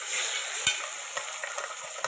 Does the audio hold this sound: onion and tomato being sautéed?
yes